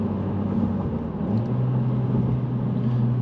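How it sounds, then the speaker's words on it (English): A 2025 Honda Civic Si engine heard from inside the car while downshifting with rev match, a steady loud drone that steps up in pitch partway through as the revs rise, over road noise. "So I just reminded myself by downshifting, we've got a nice rev match."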